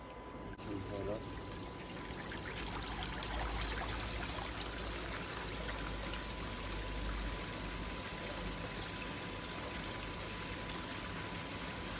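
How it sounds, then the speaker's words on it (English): Water gushes steadily through a pump-fed portable Bakki shower, a continuous close pouring and splashing that runs the whole time, with pump hum underneath and brief talk near the start. "Right, you've got water coming through."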